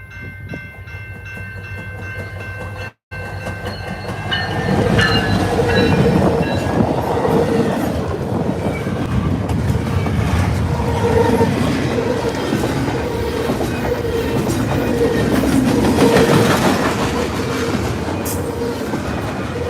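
An EMD SD75M-2 locomotive passes with a freight train, a loud rumbling engine and steady clattering wheels on the rails, close by and continuous, with a horn sounding faintly early on.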